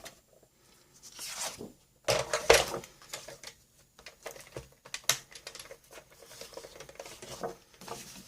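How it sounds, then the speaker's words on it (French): A paper trimmer slices through paper for a pincushion craft project: a few short, dry scraping and rustling bursts with brief pauses between them, quiet and close, with no one talking. "On prend notre massicot."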